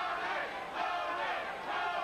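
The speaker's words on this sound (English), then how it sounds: "You can hear his corner chanting his name." A boxer's corner chanting Tony Martin's name at a professional boxing match, a rhythmic swell of massed voices rising and falling over a busy arena crowd, moderately loud and continuous.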